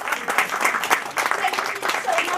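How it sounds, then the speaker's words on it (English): Sustained applause from an audience at a historical society's birthday celebration, dense steady clapping with a few brighter bursts, moderately close and continuous throughout, no voices over it. "we would like to applaud"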